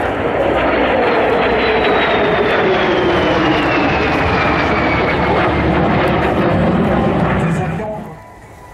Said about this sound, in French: Cet avion qui est d'une légèreté, d'une grâce et d'une beauté.